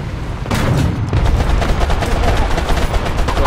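Tank gunfire in a War Thunder ground battle comes as a dense, loud, rapid stream of shots and impacts, starting after a brief lull and continuing steadily without pause.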